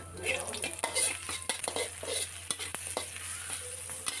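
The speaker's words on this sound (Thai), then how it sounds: "ต่อไปก็ใส่พริกกับกระเทียมลงไปค่ะ ผัดให้พอหอม ๆ นะคะ" Chili and garlic stir-fried in a pan, a steady close sizzle broken by scraping and clinking strokes of a utensil against the metal, with a faint low hum underneath and no talking.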